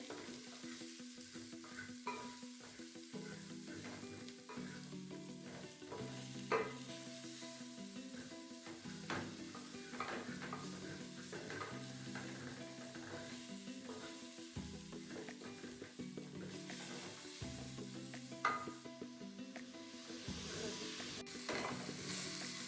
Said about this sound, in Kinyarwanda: Nk'uko bigaragara, ibitunguru byacu bigiye gushya. Hanyuma turakaranga